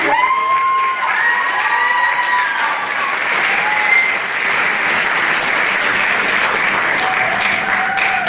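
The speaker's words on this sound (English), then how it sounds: "Round of applause for Mike" A high school audience at the Mr Hoosac 2022 show gives Mike a round of applause: steady, loud, full-crowd clapping with whoops and cheers rising above it throughout.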